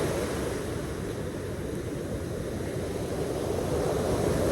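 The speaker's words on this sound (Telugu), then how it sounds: "ఇప్పుడు మాత్రం పెద్ద పెద్ద అలలు వస్తున్నాయి" Big ocean waves on Calangute beach in Goa during heavy rain make a continuous loud roar of surf, with buffeting wind over the microphone and no voices.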